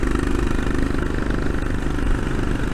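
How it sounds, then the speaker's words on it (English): A 1991 Indian-built Bullet motorcycle's single-cylinder engine idles nearby, a steady low thumping putter with light mechanical clatter, continuous and even throughout with no voices. "the old bullet, 1991, built in India, and it's a great little bike for a bit of fun."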